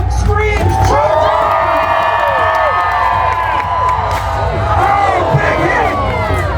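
Loud crowd cheering and shouting at a Renaissance fair jousting tournament, a dense roar of many voices with rising whoops and cries sustained throughout, close and energetic.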